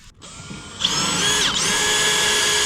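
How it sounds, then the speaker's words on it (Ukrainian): A power drill with a wider bit spins up and runs steadily at a high whine, loud and close, after a brief quieter start, in a cowshed. "А тоді ширшим свердлом"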